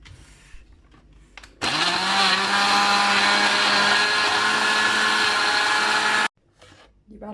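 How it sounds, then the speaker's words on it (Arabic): A kitchen blender whirs loudly for about five seconds, churning a marinade of barbecue sauce, ketchup, lemon juice, spices and oil, starting abruptly and cutting off sharply, with quiet room noise before and after. "واشغل بقى الخلاط"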